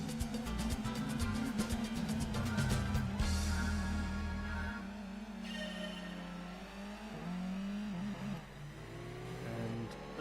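A car engine in Gran Turismo 2 revs hard through gears during a race at Autumn Ring, the pitch climbing and dropping at each shift, loud and continuous, with other racing engine whine beneath.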